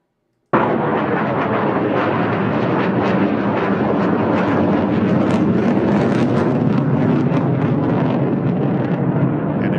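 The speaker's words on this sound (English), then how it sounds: "this is the destabilizing air being pushed and thrusted from the engine, and also hearing the exhaust of the engine" A three-engine aircraft roars loudly and continuously with rushing exhaust and turbulent air, a dense unbroken rumble that starts abruptly and holds steady for the rest of the clip.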